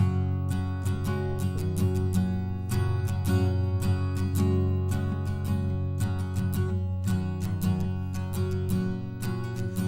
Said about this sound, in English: I'll just kind of hammer on and pull off those notes while I'm playing.